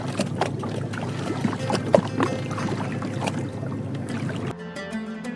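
A boat carrying a handful of passengers glides along a narrow canal toward a swamp forest near Bholaganj, Sylhet, with a close, continuous wash of water and rushing noise that drops off abruptly near the end.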